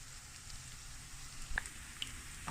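Onions with a little salt frying gently in a pan for Cameroonian ndolé, giving a soft, steady sizzle at low volume, with a couple of brief clicks or pops near the end.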